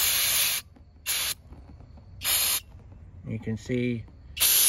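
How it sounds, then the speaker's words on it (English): Aerosol cleaner sprayed onto the oxygen sensor of a 2015 Buick Verano during exhaust repair, heard as four loud, close hissing bursts of varying length separated by pauses, with someone talking between them. "make sure it's clear when you spray it"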